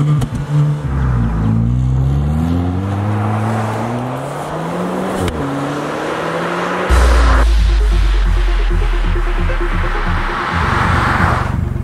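A Hyundai Veloster three-door coupe in Sport Plus mode revs hard, its engine note climbing and falling in repeated sweeps, then settling into a loud, steady drone with a sharp shift partway through, close and continuous with no talking.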